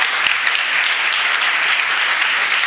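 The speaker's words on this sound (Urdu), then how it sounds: "کیا آپ جہانگیر کے لیے تالی بجا سکیں گے؟" A church congregation claps together in sustained, dense applause that stays loud and steady throughout, with no voices rising above it.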